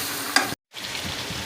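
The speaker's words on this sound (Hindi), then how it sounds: "अदरक लहसुन का पेस्ट डालने के बाद 3 से 4 मिनट से ज़्यादा भूनें ताकि अदरक लहसुन का पेस्ट भी उसके साथ गोश्त के साथ मिक्स हो जाए।" Chicken pieces frying in ginger garlic paste for an Afghani karahi over high heat, a steady broadband sizzle with a sharp scrape of stirring, broken by a brief silent gap before the sizzle resumes.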